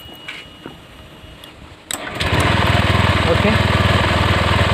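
A Honda Vario 125 scooter engine starts after its spark plug has been cleaned, then runs at a steady, loud idle close by, with a brief spoken word before it catches.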